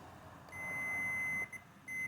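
A Razor Power Core E95 electric scooter controller with a faulty relay gives a sustained high-pitched electronic beep. The tone stops briefly and then resumes, close and clear against a quiet background.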